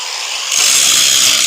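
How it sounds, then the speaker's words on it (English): An angle grinder works on scrap steel pipe, its loud, continuous high-pitched whine rising in after a brief quieter start and then holding steady, close up. "we're gonna go back and clean it up a little bit with the grinder"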